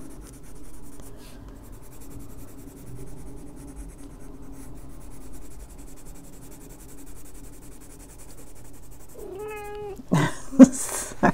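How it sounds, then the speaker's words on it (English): A house cat lets out a few drawn-out, wavering meows close by at the end, after a long stretch of quiet indoor room noise with faint pencil or marker scratching from coloring. "Sorry, my cat's meowing."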